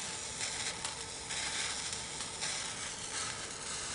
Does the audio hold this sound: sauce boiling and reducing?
yes